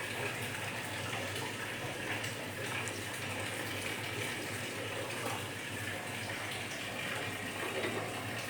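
Water runs steadily into a pan of sugar over a low gas flame to start a syrup, a continuous close pouring rush with no talk over it.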